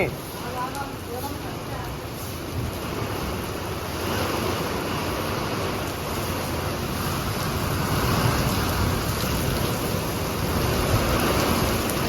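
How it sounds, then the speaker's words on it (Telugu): Heavy rain pours down during a cyclone storm with strong wind in Andhra Pradesh, a loud, unbroken roar of rainfall that swells slightly over time. "మమ్మీ వర్షం బాగా పడుతుంది"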